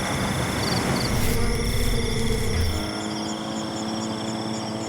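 Crickets in Cambodian rice fields at night give a steady high-pitched trilling with repeated short chirps, fairly faint and continuous, while a voice speaks over the first half.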